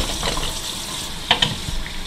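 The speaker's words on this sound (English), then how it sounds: "Now let that hot water start running." Hot water runs from a sink tap in a steady rushing hiss, with a couple of brief clinks partway through.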